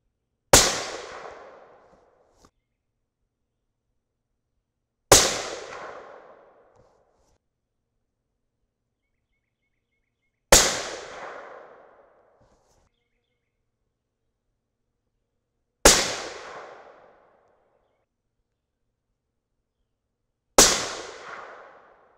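Five 6.5 Creedmoor rifle shots firing 142gr Sierra Match King loads over IMR4451 powder ring out at an open range. Each loud crack is spaced about five seconds apart and decays quickly, with silence between shots.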